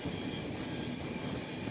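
A passenger train rushes through a tunnel on a winding forest line near Nagpur, producing a loud, continuous rumble with metallic wheel squeal that fills the whole short stretch.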